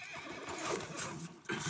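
A horse in Red Dead Redemption 2 gives a sharp, close neigh that rises and wavers over a brief moment, with a second louder burst near the end.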